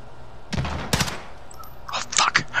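Gunfire in the Call of Duty video game: two sharp loud shots close together, followed by a rapid cluster of shots, crisp and near over a low background hum.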